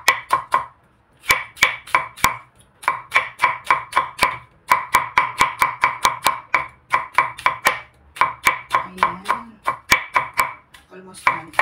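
Onions chopped rapidly on a cutting board, close and crisp knife strikes in quick rhythmic bursts separated by brief pauses, with no voice over them.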